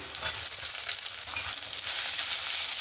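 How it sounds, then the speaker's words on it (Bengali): Onion and chopped tomato frying in a pan, a continuous close sizzle with light stirring scrapes throughout, fairly loud and steady, no voices. "পেঁয়াজটার সঙ্গে হালকা একটু ভেজে নেব"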